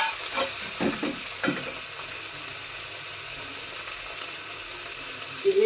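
Cumin seeds, dried chillies and diced boiled potato fry in hot oil in a pan, a steady sizzle with a few scraping stirs of a spoon near the start.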